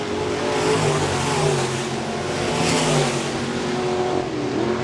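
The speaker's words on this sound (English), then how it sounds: "Field stretched out now around the 3/8 mile here at Park Jefferson Speedway as they work their way through turns 3 and 4." B-Modified race cars roar through turns 3 and 4 of the 3/8-mile Park Jefferson Speedway, a dense, continuous engine drone rising and falling as the field passes.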